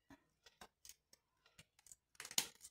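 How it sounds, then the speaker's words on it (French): Scissors snip away excess material on a handmade Father's Day gift, a series of short, soft, close cuts spaced irregularly, ending in a denser run of crisp snips. "Je vais découper ce qui dépasse."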